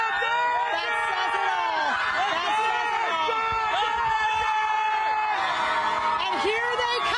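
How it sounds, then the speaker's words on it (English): A huge crowd at the Dodgers World Series championship parade in Los Angeles keeps up continuous cheering, whooping and shrill whistles, loud and close, with a voice speaking briefly over the din. "listen to the crowd"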